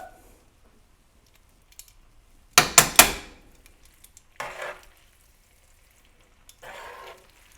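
Butter hits a hot frying pan while zucchini linguine is cooked, giving a loud crackling sizzle in a short cluster of bursts, followed by quieter bursts of frying hiss.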